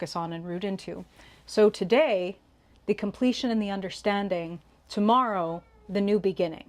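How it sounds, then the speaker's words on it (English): A pet cat caterwauling and meowing in short bursts in the background, under a person speaking steadily in the foreground. "I don't know if you could hear my cat caterwauling in the background"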